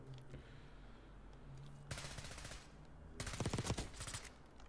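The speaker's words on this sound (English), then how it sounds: "That gun looks like it bangs" Video game gunfire: two loud bursts of rapid automatic shots, the first short and the second longer and denser, over a quiet low hum between them.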